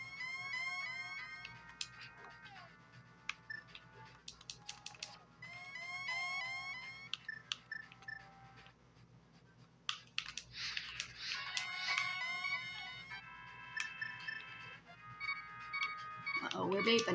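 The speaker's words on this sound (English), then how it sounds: "Uh-oh, we're beeping." In Zelda: A Link to the Past, the low-health warning beeps in repeated electronic bursts, a regular pulsing alarm. It continues under a player's chatter, with other game sound effects between the beeps.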